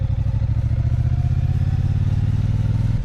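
A Triumph Bonneville T120's water-cooled vertical twin engine runs steadily with a low, even throb and a rapid pulsing beat, close and fairly loud throughout.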